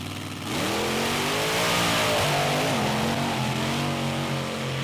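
The Bigfoot Ford monster truck races on beach sand, its big engine revving up hard and roaring loudly, the pitch climbing and wavering as it accelerates, with no voices over it.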